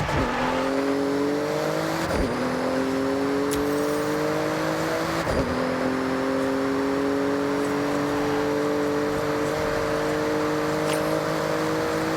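A Porsche in Forza Horizon 6 accelerates hard through a speed zone, its engine note climbing repeatedly through the gears with brief dips at each shift, loud and continuous with no talk.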